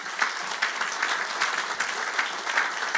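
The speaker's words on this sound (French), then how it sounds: "Acclamons très fort le Seigneur Jésus." Congregation clapping and cheering in praise of the Lord Jesus during a church service, a dense, steady wash of applause from many hands that holds at an even level from start to finish.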